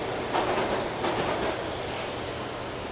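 Steady rumble of a train ride in the video game Max Payne, heading toward Roscoe Street Station, with a continuous broadband rolling roar and faint rhythmic clacks, with no voices.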